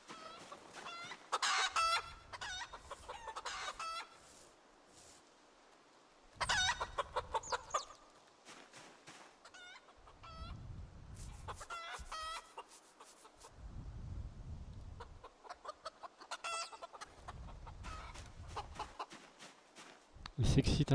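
In Project Zomboid, a rooster clucks repeatedly and crows in bursts across a farm scene, with a low rumbling sound between the calls. Someone talks in French intermittently underneath.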